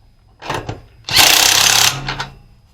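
A power tool, likely an impact driver or drill, snugs down a bolt on a homemade mud mower, firing in two short bursts and then one longer buzzing run up close, with no talk over it.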